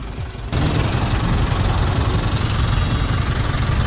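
A motorcycle engine idles with a steady, loud, close rumble that steps up sharply about half a second in and then holds even, on a Dalmatian-Labrador cross puppy's first bike ride, with no talking.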